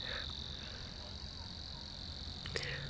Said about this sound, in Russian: Самый громкий — это сверчок. Он прям такой громкий